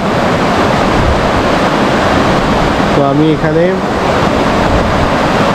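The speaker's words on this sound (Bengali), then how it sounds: "এই নদীর শব্দ আর এই ঝিঝি পোকার শব্দ, আর কোনো শব্দ পাওয়া যাচ্ছে না।" The Bidyang river near Kalimpong rushes in a loud, steady, unbroken roar, with crickets blended into the wash of water and someone speaking briefly partway through.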